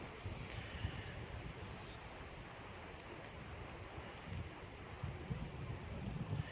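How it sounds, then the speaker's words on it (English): Steady, low wind roars and buffets the microphone throughout, with gusts swelling and fading and no clear voices. "really windy out today"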